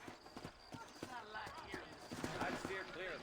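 Horse hooves clip-clop steadily at a walking pace in the Red Dead Redemption video game, with a faint whinny, while someone talks over the hoofbeats.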